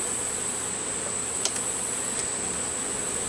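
Honeybees at an opened hive drone in a steady, close, even buzz that never lets up, with a couple of brief sharper whines as single bees pass near.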